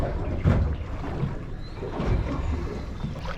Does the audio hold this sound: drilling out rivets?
no